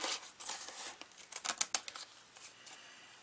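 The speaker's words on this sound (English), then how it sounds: "Just cut it on across this way." Scissors cut across a piece of material for a handmade junk journal cover, producing quiet, close crisp snips in an uneven run, busier in the middle and trailing off toward the end.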